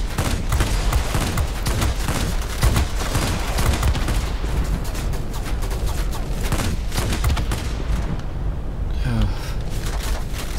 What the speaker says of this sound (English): Stop firing at me!